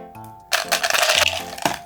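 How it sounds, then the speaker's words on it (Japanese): Crinkly plastic wrapping of a packet of Ramune candy being torn open, a dense burst of rustling and crackling that lasts over a second, close and moderately loud. "で、このラムネなんですけど、ちょっと1個開封してみます。"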